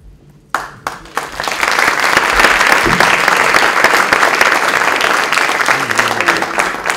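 An audience at a book presentation in a library bursts into applause after a brief quiet moment, a loud, dense clapping that holds steady for several seconds and then eases slightly.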